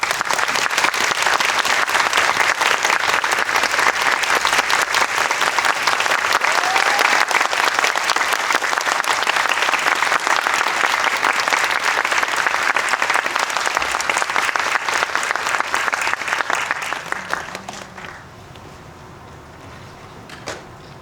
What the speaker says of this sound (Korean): 두 분 큰 박수로 맞으시면 고맙습니다